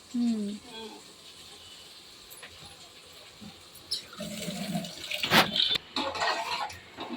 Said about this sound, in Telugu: నీళ్ళు పోసేస్తావా నీళ్ళు పోసాను